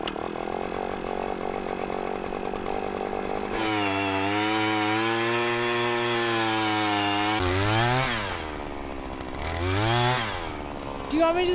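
A power ice auger bores through thick lake ice about three feet deep, its engine droning loud and steady near the microphone, with the pitch rising and falling sharply as the throttle is revved twice near the end.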